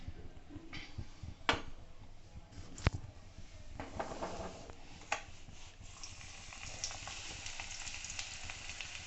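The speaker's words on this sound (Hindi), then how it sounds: "इसमें मैंने घी गर्म होने पे लहसुन डाल दिया।" Soft, steady sizzling of garlic frying in hot ghee, with a few scattered clicks and taps, close by and fairly quiet, no voices.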